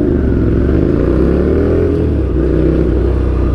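Ducati Nightshift motorcycle fitted with an Orion exhaust and its catalytic converter removed, revving loud and close with a deep, steady engine roar throughout and no talking.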